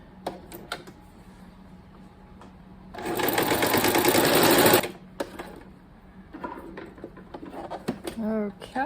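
Sewing machine stitching fabric strips for quilted hearts, a loud steady whirring run of about two seconds, bracketed by handling clicks and bits of nearby talk.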